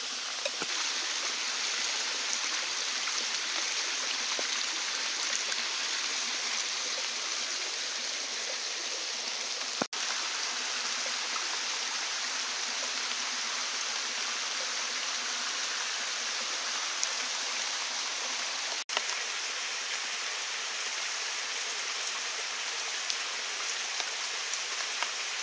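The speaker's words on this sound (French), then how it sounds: "l'eau de pluie qui coule directement de la bâche" Rainwater runs off a tarp at a rainy forest bivouac, a steady close hiss of falling and trickling water that lasts the whole time, with two faint ticks.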